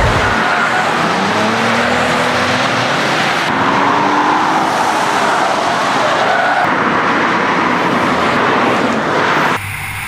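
Mercedes-Benz car driven hard on an airfield, a loud continuous engine roar with rising and falling revs and tire noise, heard from inside or close by.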